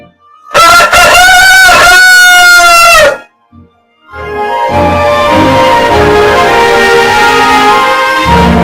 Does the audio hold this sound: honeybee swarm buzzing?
no